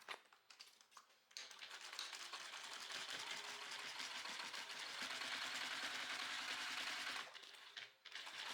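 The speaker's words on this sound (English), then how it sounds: "Top stitch with a 1/8 inch." A sewing machine top stitches fabric at a 1/8 inch seam, running in a steady, continuous whir of rapid needle strokes for several seconds after a few short starts, close and fairly quiet.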